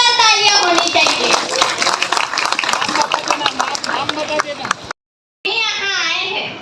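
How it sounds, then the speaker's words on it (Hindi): A large crowd at Deekshabhoomi in Nagpur claps loudly for themselves and the Buddhist monks after a dhamma initiation, with crisp, rapid overlapping handclaps and children's voices. The applause runs for about five seconds before cutting off, followed by talking. "खुद के लिए जोरदार तालियां होनी ही चाहिए।"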